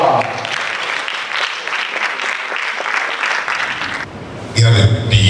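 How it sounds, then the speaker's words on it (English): Dense, steady clapping from a crowd at a political gathering fills the space, with a voice speaking over it and a brief surge of louder noise near the end. "please, with a round of applause"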